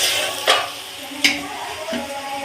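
Onions and tomato fry with a steady sizzle in a pan, broken by about three louder scraping strokes of a spoon as they are stirred, heard close up.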